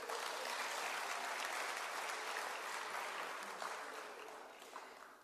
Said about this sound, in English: Can you clap a hand for her?